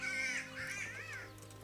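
Crows caw repeatedly in the medieval game Kingdom Come: Deliverance, a few harsh calls rising over a low steady hum of game ambience with no talking.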